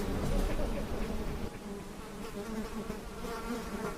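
Flies buzzing in the hot, dry Atacama desert, a dense continuous drone of wings close by, wavering slightly in pitch and loudness with no voices.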